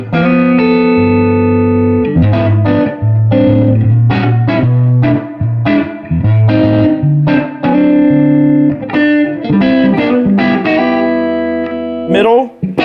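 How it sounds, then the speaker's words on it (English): A Gibson DC Tribute electric guitar on its neck pickup, tone and volume fully up, plays through a 1968 Fender Super Reverb amp. Sustained chords and single notes ring out loud and warm with reverb, alone, without talk. "Here's the neck pickup with the tone and volume all the way out on the guitar."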